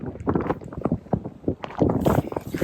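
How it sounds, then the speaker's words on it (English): Strong gusty wind buffets the microphone outdoors in wet British weather, with rough bursts and low rumbling swells that rise and fall unevenly over a few seconds. "It's very windy."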